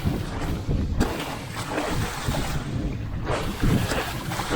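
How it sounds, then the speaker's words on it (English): Gusty wind buffets the microphone outdoors in loud, uneven surges of low rumble and hiss, rising and falling in waves over a steady roar. "Bit of wind."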